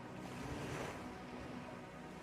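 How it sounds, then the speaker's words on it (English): Steady, soft wash of ocean surf with a gentle swell in the middle, continuous and fairly faint, with no voices. "Listen to the sounds of the waves."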